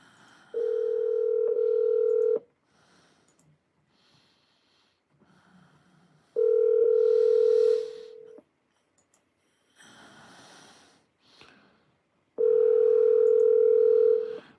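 Ringing phone call placed through an Alexa voice assistant, with three long steady tones separated by silences and faint breathing and small noises between them, no speech.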